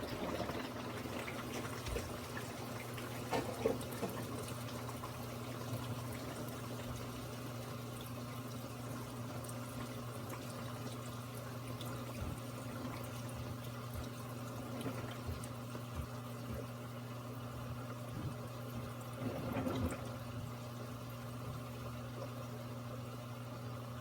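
Water siphoning back into a reef aquarium sump after the return pump is switched off, a continuous trickling gurgle over a steady low hum, with a few louder splashy surges.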